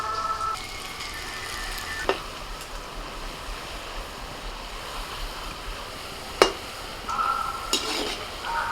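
Sweet palm-pulp fritters sizzle in hot oil with a constant soft, surf-like crackle. Occasional metallic clicks from a stirring spoon sound against the pan, and no one speaks.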